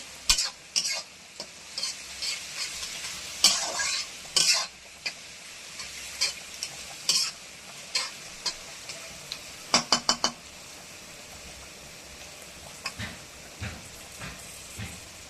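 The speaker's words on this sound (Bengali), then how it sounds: "পেঁয়াজটা লাল করে এবার ভেজে নেব।" Onions fry in a pan for a mutton dish, giving a steady close sizzle broken by frequent sharp scrapes and clinks of a spoon stirring against the metal.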